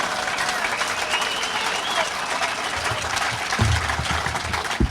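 Audience applause at an outdoor political rally, a steady wash of clapping from a crowd that holds through the whole stretch with a few louder bursts near the end.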